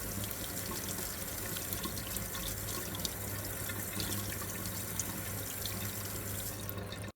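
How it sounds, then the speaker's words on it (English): Running tap water pours steadily over a bitter melon as it is rinsed and gently scrubbed with a soft brush, a continuous close splashing rush with faint dripping, no voices. "while rinsing it under running water, gently scrub the entire surface with a soft brush"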